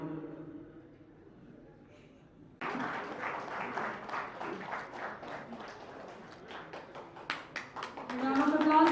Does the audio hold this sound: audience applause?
yes